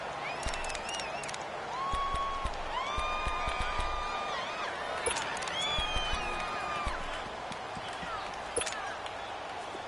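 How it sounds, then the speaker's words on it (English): Stadium crowd noise in an American football video game builds as fans get into a big third-down play, a moderate roar beneath a commentator's talk, with whistle-like tones rising over it. "The crowd getting into it as we come up on a big 3rd down"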